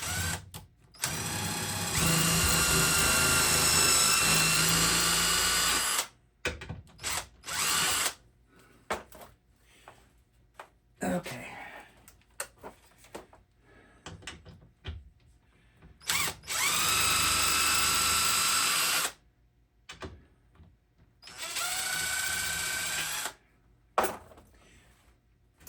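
An electric drill boring holes for screws in a can crusher's mounting whines in several long bursts separated by pauses, close and loud, with handling clatter and a brief spoken word between runs.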